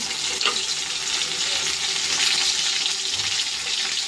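Tomato goes into a pan of fried panch phoron and hisses in a loud, continuous sizzle, close and steady for the whole stretch.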